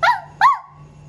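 A person imitates a dog, giving two quick, loud, close barks in succession, then a short trailing whine.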